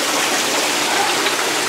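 Water gushing steadily from jets into a haunted tent prop, a continuous close, loud hissing splash with no break.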